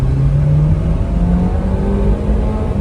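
A remapped Honda Freed on 15-inch wheels with an exhaust tip, its engine droning steadily under load in a high gear, close and loud with a constant low hum and little change in pitch.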